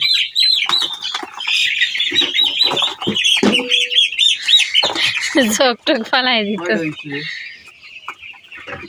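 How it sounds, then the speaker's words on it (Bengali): Broiler chickens on a poultry farm cluck, squawk and chirp loudly and continuously at close range as they are grabbed and caught, with a voice speaking briefly over the flock. "এইখান থেকে মুরগি ধরতেছি"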